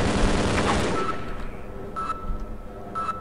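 Automatic turret gunfire inside a Half-Life 2 Episode Two game level, a loud dense burst of rapid fire at first that tails off, followed by two short bright electronic beeps about a second apart.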